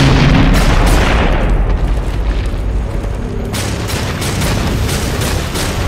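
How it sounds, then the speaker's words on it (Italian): Bomb blast in the action game Darksiders 2, loud booming explosions with heavy low rumble, an opening blast followed by repeated crackling impacts that continue throughout, no voices. "Forza, spara la bomba."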